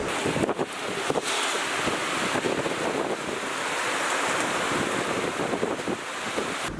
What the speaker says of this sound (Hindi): क्या तेज बारिश हो रही है ना, मैं बता नहीं सकता।